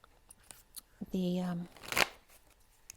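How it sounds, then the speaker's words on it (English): A deck of oracle cards is shuffled close by, giving a quick riffling flutter and a sharp snap of cards, mixed with a brief hum and some small handling noises. "So let's pull a few oracle cards."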